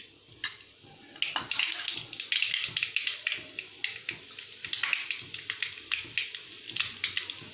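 Mustard seeds splutter in hot coconut oil in a pan for Kerala-style beef roast. The pops are sharp and irregular, crackling in quick bursts over a quiet background, with no voices.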